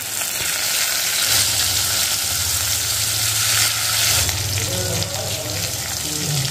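Fish oil and spices sizzle and fry steadily in a hot pan, a continuous loud crackling hiss throughout with faint stirring, no talk.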